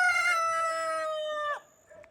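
A young rooster crows once, a long loud harmonic call lasting about a second and a half that breaks off abruptly, followed by a brief softer sound.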